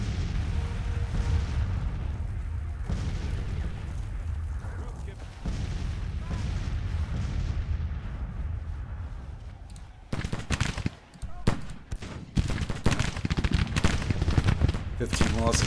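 Rifle volleys and artillery fire in the Civil War strategy game Grand Tactician, a dense continuous crackle of musketry with heavy booms, swelling into sharper, louder bursts toward the end.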